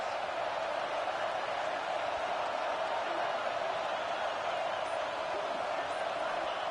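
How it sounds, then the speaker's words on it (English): Football stadium crowd making a steady, dense roar, loud and unbroken throughout with no distinct cheers. "This crowd trying to make life miserable for this offense."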